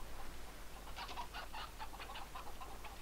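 Chickens cluck in Modern Warfare 3, several short clucks in an irregular cluster over a low steady hum, fairly faint and with no talk.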